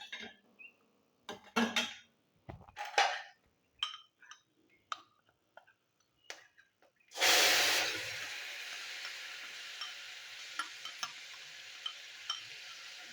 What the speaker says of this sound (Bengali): তো মশলাটা আমি একটু তেলে নাড়াচাড়া করে নিই।